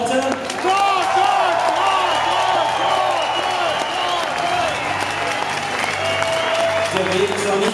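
Audience applause at a professional boxing event, a dense steady wash of clapping and crowd noise that holds loud throughout with some cheering mixed in.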